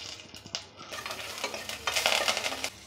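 Curry leaves and turmeric frying in hot oil in a pan for poha, with close crackling sizzle, scattered stirring scrapes, and a louder burst of spitting toward the end.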